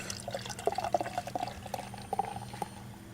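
Beer pours into a glass with quiet, irregular glugging and splashing bursts, a soft continuous liquid sound with no talking over it.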